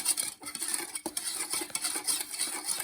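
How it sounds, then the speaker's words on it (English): A spoon stirs sugar into cold milk in a bowl, its steady scraping and gritty grinding against the bottom continuous and close, with occasional light clinks and no talking. "And mix it until the sugar is all gone."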